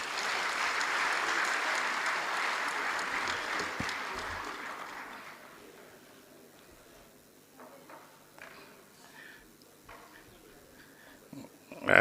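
A second round of audience applause at the government revenue ceremony for the President, dense and fairly loud for about five seconds, then thinning out to scattered faint claps and small knocks in a quieter room.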